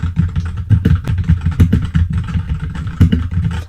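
A cheap mechanical keyboard with red switches, known for spring noise and hollow case ring, clatters with quick, uneven keystrokes typed from behind a dynamic microphone, with rapid clicks and thumps that are fairly loud and close.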